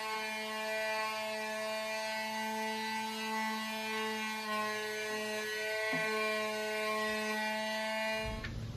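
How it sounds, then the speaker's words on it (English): A power sander works steadily across a white-painted wooden table top, a constant tonal whine with a faint rubbing texture, moderately quiet, stopping at the very end. "now I'm gonna sand the top of it and stain it"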